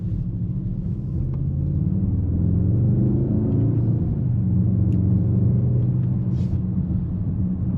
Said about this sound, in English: Very seamless gear changes in this car, even in the Sport Plus mode